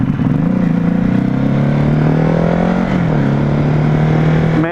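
A 2014 Ducati Hypermotard SP six-speed motorcycle engine revs hard and steadily climbs in pitch, loud and close, with a brief dip as it shifts before pulling again.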